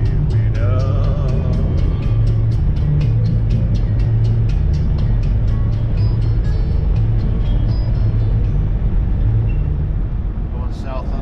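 A car cruises south on Highway 95 in Nevada near Fallon, with a constant loud road and engine rumble and a regular faint ticking over it throughout.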